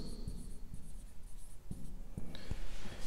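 An alcohol-based marker pen squeaks and rubs across a board in short strokes with small taps between them, close and fairly quiet.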